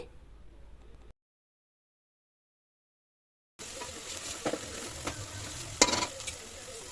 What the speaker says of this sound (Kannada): ಎರಡು ಟೀ ಸ್ಪೂನ್ ಅಚ್ಚ ಖಾರದ ಪುಡಿ ಸೇರಿಸ್ಕೊಂಡು ನೀಟಾಗಿ ಮಿಕ್ಸ್ ಮಾಡ್ಕೊಳ್ತಾ ಇದ್ದೀನಿ